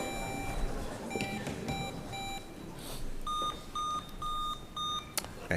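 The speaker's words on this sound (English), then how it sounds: "let's have a buzzer check" Quiz bowl buzzers sound a series of short electronic beeps during a buzzer check, each tone brief and distinct, set in a quiet room.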